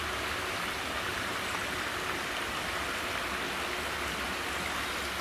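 A brook flowing under a stone archway beside an old tramroad footpath, a steady broadband rushing of water with no voices, constant and close.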